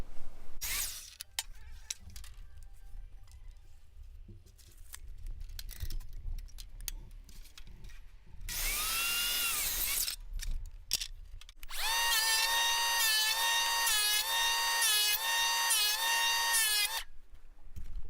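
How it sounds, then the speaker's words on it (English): An electric power planer shaves a bevel into wood while building a poolhouse cabana, with loud bursts of cutting noise, the longest and most sustained near the end, separated by quieter handling sounds. "We use the planer to really give that an angle, that bevel a super angle"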